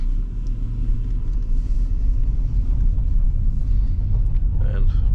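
A 2020 Mitsubishi Outlander PHEV with 2.4-litre 224 hp AWD pulling away, a steady low cabin rumble of engine and road noise, close and constant, with a person talking over it.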